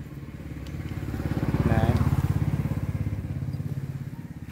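A cheap small outboard boat motor runs steadily close by, a buzzing, fast-pulsing engine note that swells slightly and then holds through the whole stretch, with no talk over it.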